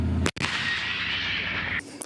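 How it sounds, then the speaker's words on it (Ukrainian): A single heavy Leopard 1A5 tank cannon firing a canister round nearby, a sharp boom followed by a long roaring rush of sound that cuts off abruptly. "Сьогодні ми стріляли е, картечним боєприпасом."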